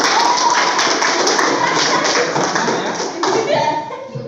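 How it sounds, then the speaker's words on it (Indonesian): Students in a junior high school Islamic studies class clap their hands together, a dense burst of claps under background voices that thins out toward the end. "Oke, tepuk tangan."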